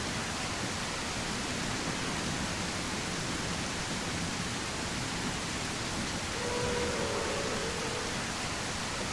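Steady rain falling outdoors makes a dense, unbroken hiss that stays even throughout, close and fairly loud, with no voices.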